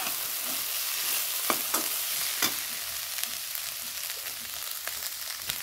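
Potatoes fry in a pan with a constant soft sizzle, punctuated every second or so by sharp clicks and scrapes of stirring, heard close and quietly with no talking.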